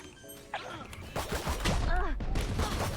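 Vandal rifle gunfire in the video game Valorant cracks out in quick bursts amid game noise, with a voice speaking over it.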